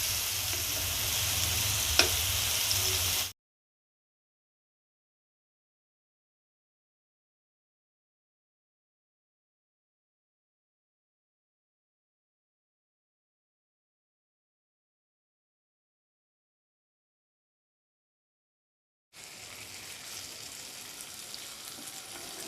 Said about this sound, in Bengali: মিডিয়াম ফ্লেমে 15 মিনিটের জন্য ভেজে নিয়েছি।